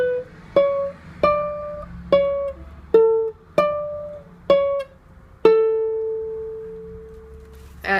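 Ukulele picking a slow melody, eight single plucked notes spaced about a second apart with a final note left to ring and fade, close and alone.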